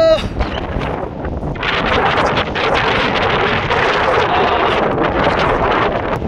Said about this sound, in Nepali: हावा उडायो